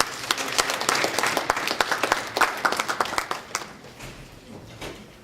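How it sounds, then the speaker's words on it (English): An audience at an Eco Club International meeting gives a round of applause: many hands clapping briskly and fairly close, peaking early, then thinning out and tapering off toward the end. "I think they deserve a big round of applause"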